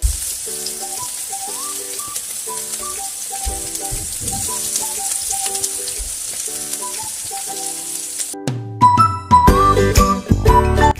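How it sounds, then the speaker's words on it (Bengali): Chopped onions fry in a cup of oil on high heat, a steady soft sizzle running beneath prominent melodic background music, which drops out briefly near the end before louder tones return. "অপেক্ষা করছি, হালকা বাদামি করে ভেজে নিচ্ছি পেঁয়াজ।"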